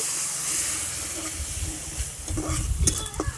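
Spice paste sizzles and fries steadily in a pan for a Bengali small puti fish curry, a loud continuous hiss with scraping stirring strokes growing busier toward the end, close up.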